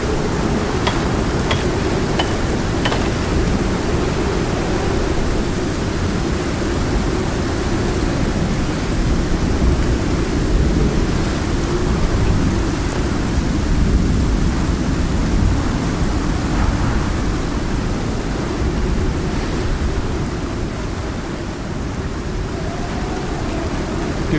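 Heavy rain and rolling thunder from a storm in the video game Stockpile, a dense, steady roar that fills the whole clip at even loudness, with a few sharper cracks early on.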